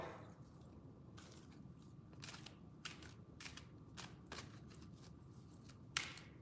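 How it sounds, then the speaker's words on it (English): Playing cards being shuffled during a reading, soft repeated riffling bursts at irregular intervals, close and quiet, with a sharper snap near the end and no talk. "let's shuffle for you, okay?"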